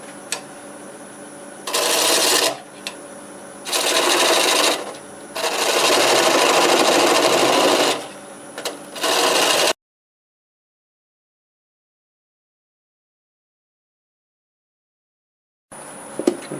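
Wood lathe spinning a staghorn sumac bowl near 780 RPM while a 1/2 inch gouge cuts, giving loud bursts of broadband shearing noise between steadier motor hum, then a long stretch of silence before a short return.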